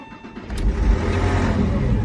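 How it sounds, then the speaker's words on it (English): A Porsche Boxster cold start: a brief starter whirr, then the engine catches and rises into a loud, steady rumbling idle close by, with no talk over it. "second cold start ever with this car"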